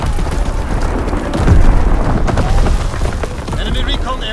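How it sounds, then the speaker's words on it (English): Enemy artillery shells exploding in Call of Duty: WWII, heavy rumbling booms over ongoing battle noise with a loud blast midway, while a game voice issues warnings. "Incoming enemy artillery. Get to cover."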